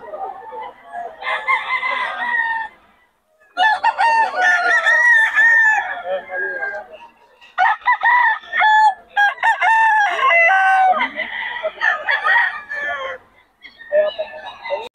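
Roosters crow loudly and repeatedly at the crowded Bocaue fowl market, long strained calls coming in several bursts with short gaps, some overlapping. Other birds and a busy market atmosphere sit beneath.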